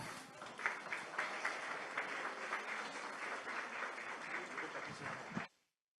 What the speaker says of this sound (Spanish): Les brindamos un fuerte aplauso.